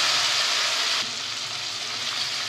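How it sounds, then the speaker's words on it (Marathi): Turmeric-yellow chivda with lemon juice frying in a pan, a steady close hissing sizzle that holds evenly throughout, dipping slightly partway, with no talk. "अगदी 1-2 मिनिटं आहे ना फक्त असं छान फ्राय करून घेऊयात"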